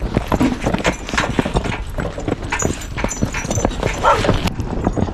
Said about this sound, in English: They have a dog here that I do not like, and Ken does not either.